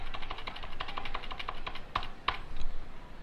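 Keys clatter on a computer keyboard in quick irregular taps while HTML is typed, up close with a few louder strikes and no talk.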